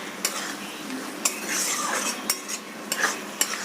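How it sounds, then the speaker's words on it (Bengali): Potol and potato being stirred with sesame and spices in a kadai, a soft steady sizzle broken by several sharp metal spoon scrapes and clinks against the pan. "এরপর আমি খুব ভালোভাবে মশলার সাথে বেশ ভাজা ভাজা করে নেব"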